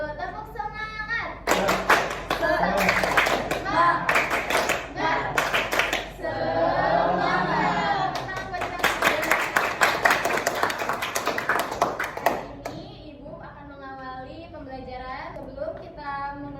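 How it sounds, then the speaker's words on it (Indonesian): A class of eighth-grade pupils performs a rhythmic spirit clap in a classroom, bursts of patterned hand claps mixed with loud group chanting, followed by a quieter stretch of voices near the close. "Coba tepuk semangat dulu. Tepuk semangat."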